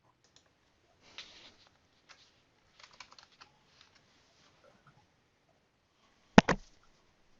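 Typing on a computer keyboard during an online math session, with a few short bursts of key clicks at moderate distance and a louder, sharper clatter of keystrokes near the end, with quiet gaps between.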